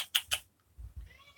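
A cat makes a faint, whiny meow after a few sharp nearby taps, quiet and brief against a low background.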